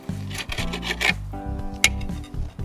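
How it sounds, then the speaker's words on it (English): A knife cuts a bone-in lamb shoulder chop into roughly one-inch pieces, with close scraping and rasping strokes on a board, a few sharp knocks, and a low hum running underneath. "you want to start by cutting it into pieces that are roughly 1 inch per side"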